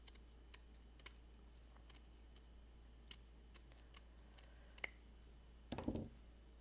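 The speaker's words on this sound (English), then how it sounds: "Snip off a piece and just add." Scissors snipping off pieces of craft material for a shabby Valentine project, a string of sharp, faint, isolated clicks spaced irregularly in a quiet room, ending in a brief rustle.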